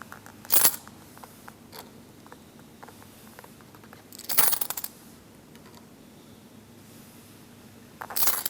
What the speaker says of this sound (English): They counted out 30 coins.